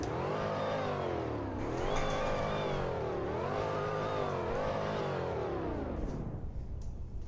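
A Jaguar F-Type SVR-style sports car engine revs repeatedly in loud, rising and falling swells, several throttle blips in a row before the exhaust note settles toward the end, with no talking over it.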